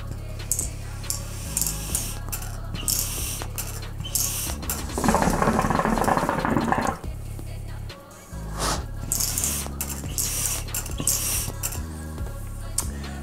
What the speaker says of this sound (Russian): Но колба продувается моментально.